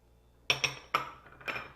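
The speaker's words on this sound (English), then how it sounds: "I'm going to add about 1/3 cup of sliced almonds" Sliced almonds tipped into a bowl of dry scone mixture for raspberry almond scones, landing as a few short, light clattering taps close by, with no voices.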